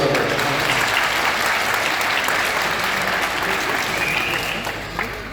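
Wedding guests break into loud, sustained applause during the ceremony, a thick continuous wash of many hands clapping close by that holds steady and eases slightly near the end.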